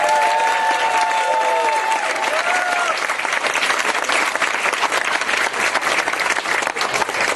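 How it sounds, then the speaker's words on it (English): A round of applause for the graduating fifth-grade class at a 2017 elementary school promotion ceremony: many hands clapping in a broad continuous wash, outdoors-sounding, with voices heard over the first few seconds. "Let's give the class a round of applause."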